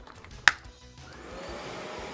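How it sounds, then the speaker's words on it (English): A vacuum cleaner starts up on a floor after a sharp click, then runs with a steady, moderately quiet whirring drone through the rest of the moment, with no talking. "I will be vacuuming the area as soon as I'm done to make sure no stray plastic strings found their way to the floor"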